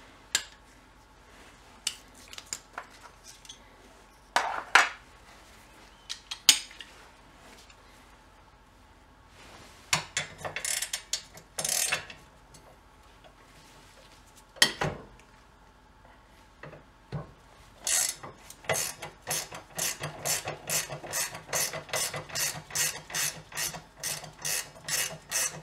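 Ratchet wrench loosening upper control arm bolts on an Infiniti M45 during front suspension work for bad ball joints and torn bushings: scattered clanks and clicks at first, then a steady, close run of rapid ratcheting clicks toward the end.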